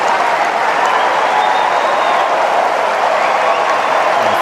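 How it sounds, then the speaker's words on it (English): A US Open tennis crowd breaks into sustained applause after a long, punishing rally, a steady dense wash of clapping across the stands with no break. "crowd shows its appreciation"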